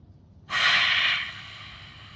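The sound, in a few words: deep inhale during breathing exercise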